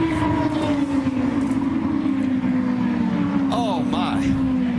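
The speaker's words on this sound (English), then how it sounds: "Trouble, contact, and a huge crash." IndyCar race cars scream past at high speed during a multi-car crash in turn 2, a loud sustained engine whine sweeping downward with a second car's pitch dropping by, under excited commentary.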